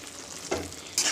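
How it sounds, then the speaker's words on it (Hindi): A spoon stirs saag (leafy greens) in a hot pan, giving soft scraping and a faint sizzle with two brief louder swishes, quiet and close. "अब मिक्स करते हैं इसको, अच्छे से मिक्स कर देंगे।"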